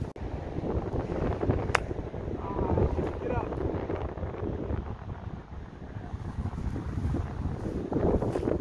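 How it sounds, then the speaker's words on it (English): Strong wind buffets the microphone on a golf course in harsh conditions, a steady low roar with gusts rising and falling throughout. "The wind is really whipping"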